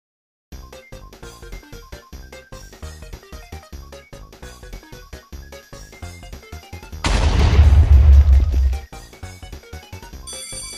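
A bomb explosion at a book fair bursts in as a loud, roaring blast lasting about two seconds, cutting through steady, rhythmic music that carries on before and after.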